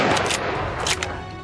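Rifle fire during a wild boar hunt in European fields and forests: sharp, loud cracks that echo, with a second burst close behind the first.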